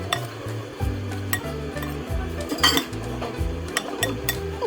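A spoon stirs mango cheesecake mixture in a bowl, scraping and clinking in a steady back-and-forth rhythm, close and fairly loud, with background music playing underneath.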